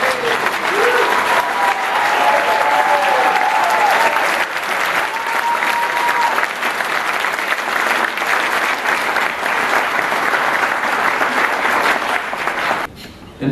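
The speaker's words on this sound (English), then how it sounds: "join us in applauding Dr. Harris's dedication to being a champion of civil rights in Hawaii" Sustained applause from a ceremony audience at a civil rights award event in Hawaii, a steady dense wash of clapping that holds loud for over twelve seconds before stopping abruptly.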